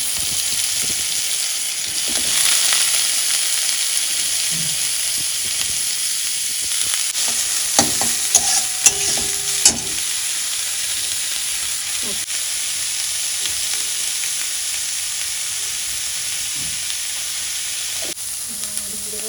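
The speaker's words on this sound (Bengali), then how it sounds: "তো মোচা মোচাটা ভাজবে এখন এটা পুর হবে আলুর মধ্যে ভরে" Banana flower (mocha) filling frying in a pan for potato chops, a steady close sizzle with scattered scraping stirs and light clinks partway through.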